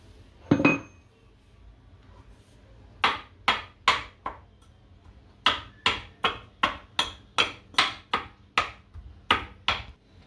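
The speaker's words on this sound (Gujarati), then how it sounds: "આને આપણે ખાંડી લેશું" Garlic and spices such as cumin, black pepper, turmeric, coriander and asafoetida are pounded for garlic chutney, giving a run of sharp, metallic clinks: one strike, a short burst, then a steady rhythmic series of about a dozen close, loud hits.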